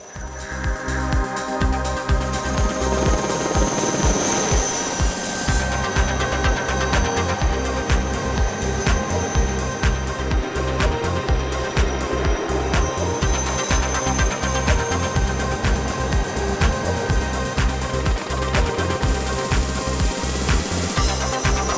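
Aérospatiale Lama helicopter flying crop-spraying rotations with a full chemical tank, a loud, steady, close rotor and turbine roar with rapid blade chop throughout.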